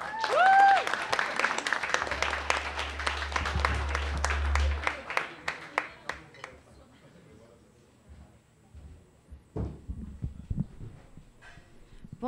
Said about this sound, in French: Merci de l'accueillir avec une belle main d'applaudissements.